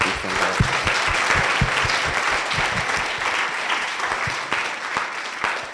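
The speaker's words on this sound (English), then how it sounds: "Round of applause again" Steady applause from an audience, a dense wash of many hands clapping at an even level throughout.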